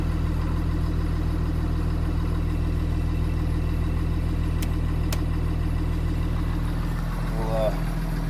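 A 2009 Blue Bird Vision school bus diesel idles after a cold start, a steady low throbbing drone held evenly throughout, with brief faint clicks and a short tonal sound near the end.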